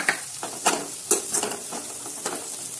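Turmeric frying in oil for poha sizzles steadily up close while a spoon scrapes and stirs the pan in several distinct strokes, with no talking.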